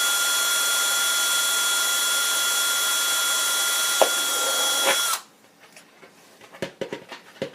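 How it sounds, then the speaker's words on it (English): A power drill with a very dull bit whines steadily and loudly for about five seconds while drilling a hole in a kids' helmet, then cuts off, followed by scattered small clicks and handling noises. "So I drill a hole right there"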